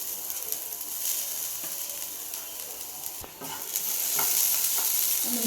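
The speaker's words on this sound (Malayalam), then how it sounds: "ചുവന്നുള്ളി അരിഞ്ഞു നന്നായിട്ട് ഇളക്കി കൊടുക്കാം" Chopped shallots frying in a pan for kappa ularthiyath, a continuous sizzle with scraping, clicking stirs of a spoon against the pan, a brief dip then louder frying near the end, close and with no talk.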